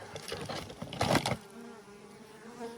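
Dense buzzing of honey bees swarming close by at an apiary, loudest in the first second and a half, then thinning to a quieter hum.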